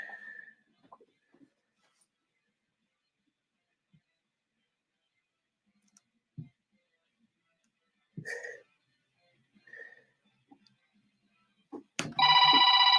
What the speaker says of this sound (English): I heard my phone ding.